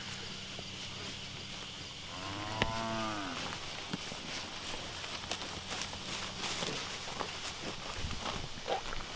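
Cattle being moved onto fresh pasture shuffle and rustle faintly at a distance, with one clear moo partway through over a constant outdoor background hiss.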